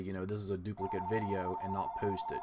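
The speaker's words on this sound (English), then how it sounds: "sorry about that phone" A telephone rings steadily in the background, a continuous electronic tone running under a man's ongoing speech.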